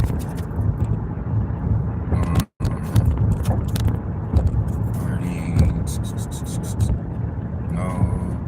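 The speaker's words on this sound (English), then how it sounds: "I'm over here driving and stuff" A car drives along with a steady road and engine rumble from inside the cabin, punctuated by small clicks and rattles, while a person talks over it.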